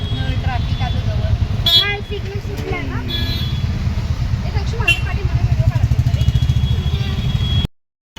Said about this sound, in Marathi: ट्रॅफिक किती आहे संध्याकाळची?